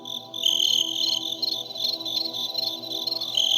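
Crickets chirp in a steady high-pitched trill, close and continuous, with rhythmic pulsing and no voices over the sound.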